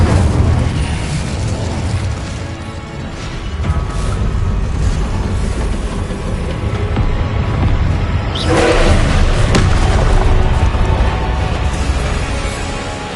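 Fire spells Confringo and Incendio blast in Hogwarts Legacy, a dense roar of magical explosions with a sharper burst swelling near the end over constant loud rumble.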